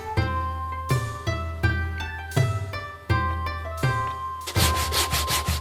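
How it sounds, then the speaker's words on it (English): Steady back-and-forth strokes of hand sanding on the wooden handle and sheath of a Japanese tanto knife, repeating at a regular pace beneath gentle background music. "I do some final hand sanding on the sheath and on the handle"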